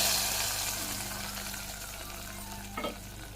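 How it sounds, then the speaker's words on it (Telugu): A tempering of spices frying in hot oil for ponnaganti leaf tomato dal gives a steady, dense sizzle, close and continuous, with a brief stir or clink near the end. "ఇప్పుడు ఈ తాలింపు మొత్తం బాగా వేగేంత వరకు వేయించుకోవాలి."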